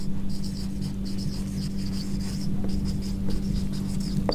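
Handwriting on paper makes steady, close scratching strokes over a constant low electrical hum, with no talking.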